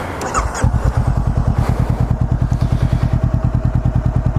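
A 2017 Honda CBR500R with a Yoshimura R77 slip-on exhaust idles close by with a steady, rapid thumping pulse and crackles, loud and mechanical, with a brief noisy burst at the start.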